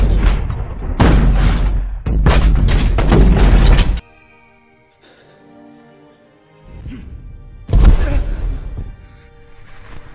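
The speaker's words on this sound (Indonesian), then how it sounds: "Kemudian meriam-meriam itu ditembakkan ke arah pertahanan tentara Inggris." Heavy cannon blasts from a World War I battle land as loud booming bursts in quick succession, then a quieter lull, then a further strong blast that fades out.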